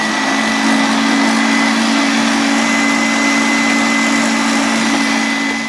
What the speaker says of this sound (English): And just whisk that up.